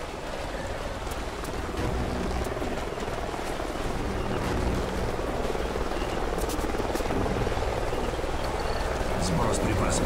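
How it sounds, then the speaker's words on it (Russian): A helicopter in the Call of Duty: Ghosts canyon mission hovers nearby, a continuous rotor rumble with a rain-like hiss that builds slightly and holds steady throughout. "Похоже, вертолет среди нас."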